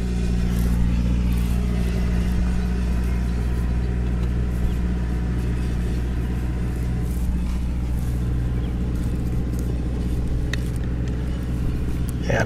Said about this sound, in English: Here comes the tractor again.